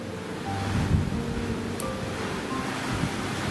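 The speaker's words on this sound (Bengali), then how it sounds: "গরম জলটা ঢেলে দেবো।" Hot water pours steadily into a pot of quick home-style biryani rice, a continuous rushing, splashing wash that stays fairly loud and even throughout, with no talking.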